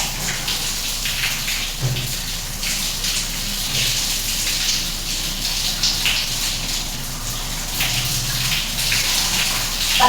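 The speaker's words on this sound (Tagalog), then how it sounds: "Ang sarap maligo!" A shower runs continuously, with water hissing and splashing steadily nearby, no voices over it.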